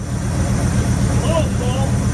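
A 1965 Acadian Beaumont's engine running steadily with a low, constant rumble close by, and a voice briefly audible over it.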